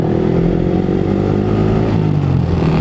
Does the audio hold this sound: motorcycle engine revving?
yes